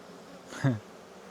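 Honeybees about to swarm at a hive in an apiary during an inspection. A low buzzing hum sits in the background, and a single louder bee zips close past for a brief moment, then fades.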